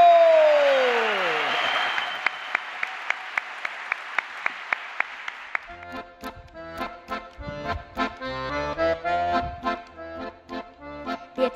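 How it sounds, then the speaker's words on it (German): An audience applauds a performer at a Cologne stage show, clapping in an even, regular beat after a sweeping whistle effect. Lively stage music then takes over. "Einen herzlichen Applaus"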